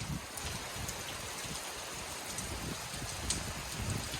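Heavy hurricane rain pours steadily in Jamaica in a dense, continuous hiss with scattered louder drops and low rumbling, no voices.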